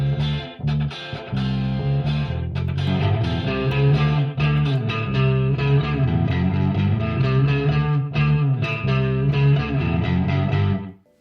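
A Stratocaster electric guitar plays a distorted, effects-laden line over a full band arrangement in a track-by-track build of a song, sustained and loud throughout with no talk.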